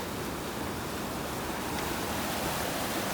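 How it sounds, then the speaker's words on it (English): A roaring chute of a mountain waterfall in the upper Fryatt valley gives a dense, steady rush of white water, constant and fairly far off, with no voices. "It's just nothing but waterfalls."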